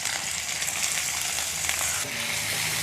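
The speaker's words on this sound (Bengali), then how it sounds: "দিয়ে দিচ্ছি মিহি করে কুচানো পেঁয়াজ" Finely chopped onion sizzles in hot oil left in a kadai after frying, a bright, steady, crackling hiss close by, with a few faint clinks near the end.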